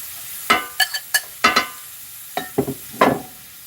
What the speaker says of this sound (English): We're gonna saute these onions.